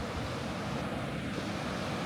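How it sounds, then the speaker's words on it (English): Surf and wind along the Pacific Ocean shore, a steady broadband wash of waves with wind buffeting the microphone, continuous and fairly loud with no talk. "in front of the beautiful Pacific Ocean."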